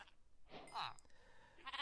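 Sheep bleating in the video game Minecraft, one short bleat near the middle followed by a brief fainter call at the end, quiet overall.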